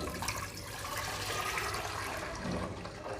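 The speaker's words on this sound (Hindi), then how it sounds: "अब इसके अंदर हम दूध डालेंगे" About 1.5 litres of milk pours into a pot sitting on a stove, making a soft, continuous liquid rush that stays faint and steady throughout without pause.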